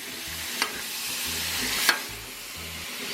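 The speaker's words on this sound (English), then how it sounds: "So now all we got to do is cook up the shrimp." Shrimp sizzling on a flat-top Blackstone griddle: a steady, close, bright hiss of frying with two sharp ticks, and no one talking.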